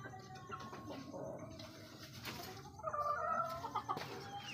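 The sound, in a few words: chickens clucking while awake under the light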